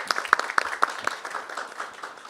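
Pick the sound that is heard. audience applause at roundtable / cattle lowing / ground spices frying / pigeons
audience applause at roundtable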